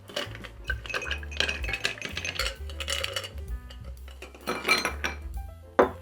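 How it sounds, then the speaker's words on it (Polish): Ice cubes from a freezer clatter and clink into a cocktail glass, a busy run of close glassy knocks and rattles with handling noise, ending on one sharper clink. "Dodaję lodu z zamrażalki."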